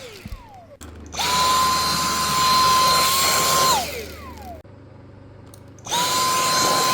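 A Dyson V6 cordless vacuum converted into an air duster blower whines loudly on turbo mode in two bursts, each spinning up to a high steady pitch and winding down, with a short quiet gap between.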